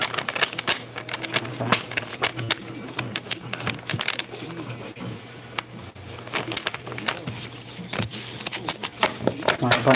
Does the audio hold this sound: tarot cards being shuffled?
yes